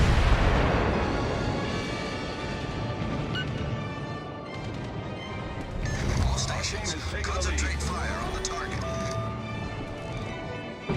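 Battleship main guns firing in World of Warships, heavy booming blasts and rumbling explosions, with a loud burst at the start and more impacts midway, under continuous excited Thai voice commands.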